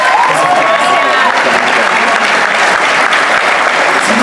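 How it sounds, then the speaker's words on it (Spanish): A television studio audience breaks into loud, sustained applause for Ana, with a voice briefly heard early on beneath the steady clapping. "Un aplauso para Ana, por favor."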